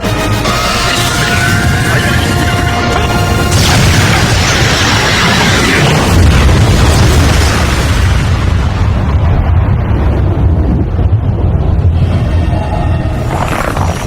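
Missiles explode in an anime movie battle in a dense, loud roar of blasts and rumbling booms that barely lets up, with sharp bursts and whooshing effects layered over one another.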